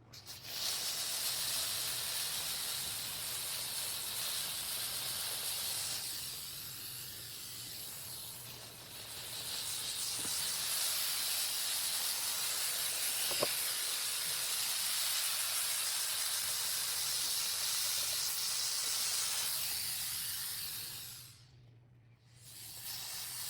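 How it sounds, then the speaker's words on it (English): A 2-in-1 steam mop with its mop head removed, used as a handheld steamer, hisses loudly and steadily for many seconds, dropping off briefly near the end before starting again. "I'm pulling out my 2-in-1 steam mop, but this time I'm taking the mop head off and using it as a handheld."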